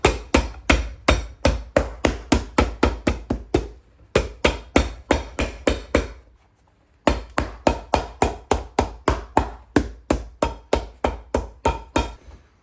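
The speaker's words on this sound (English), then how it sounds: "Hammer that on." A hammer strikes a boot midsole during a resole of old Thursday boots, with rapid, sharp, close blows in three bursts broken by short pauses.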